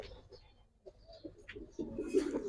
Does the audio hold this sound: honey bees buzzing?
no